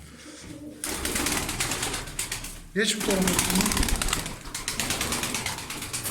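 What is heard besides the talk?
tumbler pigeons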